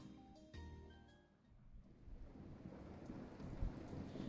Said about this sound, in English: Rain was pouring like buckets the entire afternoon. The skies were dark with gray clouds and roared with the occasional crash of thunder.